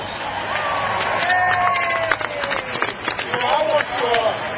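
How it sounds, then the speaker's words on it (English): A lively crowd at a New Year's Eve event on the Santa Monica Pier cheers and shouts, with whoops and excited voices rising over scattered clapping. "Give yourselves a big round of"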